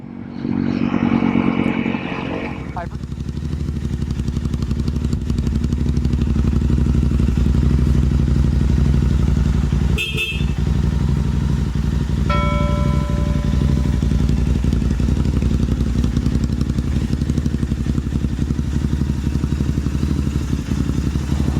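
Heavily modified Honda CRF 300 motorcycle engine droning loudly and steadily while riding on a mountain outing, with rising revs, brief clattering knocks midway and a passing whistle-like tone, and no talk.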